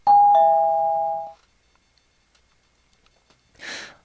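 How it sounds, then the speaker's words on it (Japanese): The doorbell chime of a landlord's house rings in the video game Hayarigami 2: one loud two-tone ding-dong that fades out, then silence, then a brief soft rustle. "僕は大家の家のチャイムを鳴らした。"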